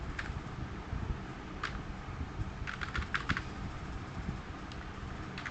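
Typing on a computer keyboard while entering text in a word processor: steady quiet key clicks throughout, with a few sharper keystroke bursts over a faint background hum.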